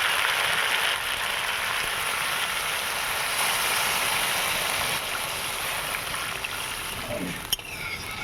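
Water poured into a pan for a tilapia and taro curry gives a steady, fairly loud rushing splash that runs the whole time with no break, ending in a short clatter.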